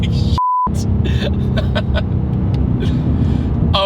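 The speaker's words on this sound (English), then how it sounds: "I blipped the throttle as we squatted and went" A 2024 Mustang GT launches hard with the throttle blipped, its engine a loud, close rumble under excited voices, cut briefly by a short beep tone.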